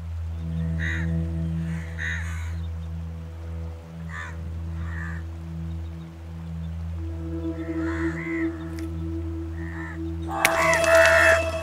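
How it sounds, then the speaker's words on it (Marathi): Crows caw in scattered short calls over a loud, steady low humming drone, growing busier toward the end as a harsh, noisy burst rises. "अहो आता तर कावळे आलेत."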